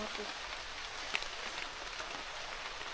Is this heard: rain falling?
yes